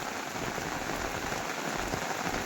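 Heavy monsoon rain pours steadily on a farm during a severe late-September downpour, a dense, continuous hiss of drops drumming on surfaces with no voices present.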